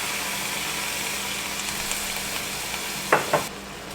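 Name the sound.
onions frying in a pot for chili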